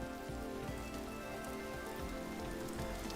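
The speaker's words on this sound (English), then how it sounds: "It's like really rainy out here." Steady, dense rain falls in the survival video game Vintage Story, a continuous hiss of drops spattering on surfaces that holds even and unbroken throughout, with no voices over it.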